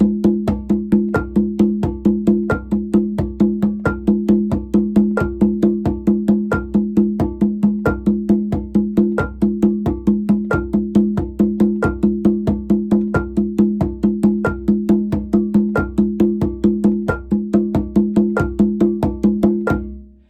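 Hand drum playing a steady Santos rhythm with a bell struck on every other bass stroke in a half-note pulse, a continuous even pattern of deep booming tones and bright taps, loud and close throughout.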